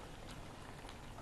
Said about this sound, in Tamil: ஸோ நல்லா கொதிக்குது